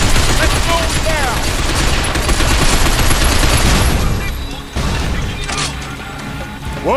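Dense, continuous gunfire from the video game Binary Domain, with rapid automatic bursts and crashing impacts, loud and close, easing somewhat toward the end, with shouted voices in the mix.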